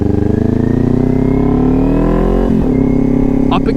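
A motorcycle engine drones loudly and climbs in pitch while riding, then drops sharply during an upshift before pulling steadily again in the next gear.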